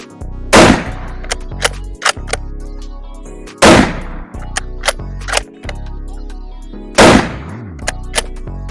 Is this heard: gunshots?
yes